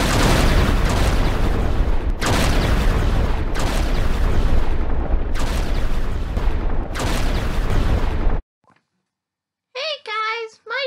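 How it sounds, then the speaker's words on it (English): Explosion sound effects: about five loud, roaring blasts fire back to back in an even rhythm, then cut to near silence before a voice speaks briefly. "the creator of the videos on Robotic Ryan is addicted to explosion effects"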